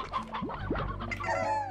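A chicken slime in Slime Rancher clucks in a few quick, close-up squawks and clucks, with busy game sounds around it.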